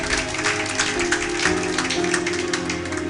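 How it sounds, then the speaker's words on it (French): A church congregation applauding: steady, dense clapping from many hands that fills the room, with organ-like sustained tones and voices blending underneath. "Acclamez pour la gloire de notre Dieu,"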